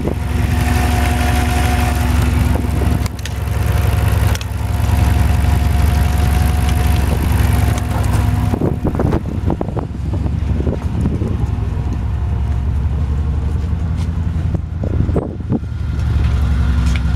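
A 2006 Jeep Grand Cherokee with a 5.7 liter V8 Hemi idles steadily with a low, even rumble, heard up close under some wind buffeting, and its tone shifts partway through as the engine and surroundings change.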